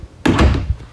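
A drawer or cupboard opens in the kitchen of a 2022 Forest River XLR Boost 37TSX13 RV, a single sharp thunk followed by a brief rattling slide, close and fairly loud.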